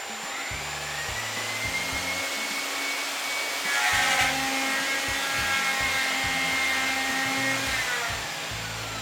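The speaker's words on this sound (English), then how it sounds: "Let's go drill some holes." Steady, loud whine of a power router cutting holes into a guitar body for a Graph Tech Hexpander install, a continuous roaring motor with a brief surge in intensity midway, no voices.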